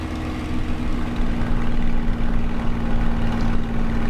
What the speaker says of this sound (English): But overall I think the engine sounds really awesome now